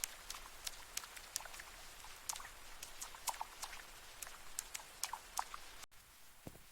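Soft, steady rain drips from tree leaves, scattered close drops tapping irregularly over a faint hush of falling rain.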